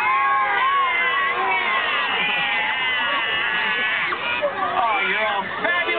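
A crowd of aquarium visitors at a beluga show in Vancouver imitates beluga whale calls in unison, a loud chorus of high warbling, squealing voices sliding up and down together over a mixed hubbub.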